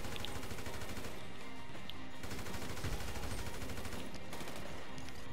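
Gunfire in Grand Theft Auto V, a steady rapid stream of automatic shots, fairly faint and even throughout, with no talk over it.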